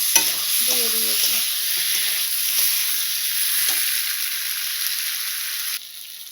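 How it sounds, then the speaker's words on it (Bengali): Chopped tomatoes hit a pan of cooked spice masala and sizzle loudly and steadily, with a few clicks of stirring early on and no talking. "মশলাটা কষানো হয়ে গিয়েছে, এখন ভেজে টমেটোটি দিয়ে দেবো। কেটে রাখা টমেটোটা দিয়ে দিয়েছি।"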